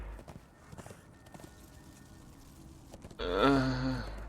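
A horse's hooves clip-clop on rock in the video game Darksiders 2, a faint, uneven run of steps followed by a louder snort or whinny-like vocal burst near the end, with no talking.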